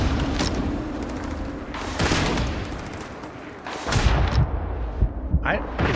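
Gunfire aimed at the player in Starfield, with loud rapid shots and booming impacts in bursts, including a sniper firing from somewhere unseen.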